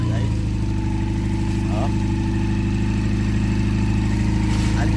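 A Honda CB400 motorcycle engine, 400cc, after starting settles into a steady low idle, loud and close, running continuously with a brief spoken exclamation over it.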